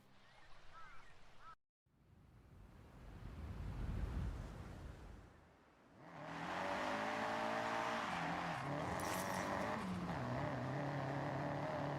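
A Ford Sierra Cosworth in the video game Forza Horizon 6, its engine droning and building into a loud, sustained rev with a steady harmonic whine after a brief drop-out and a rushing burst.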